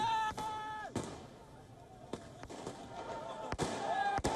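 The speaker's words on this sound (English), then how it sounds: "The farmers also threw firecrackers, eggs and beer bottles at the police in Brussels" Several sharp firecracker bangs go off at irregular intervals over a noisy crowd of protesting farmers in Brussels with shouting voices, loud and fairly close.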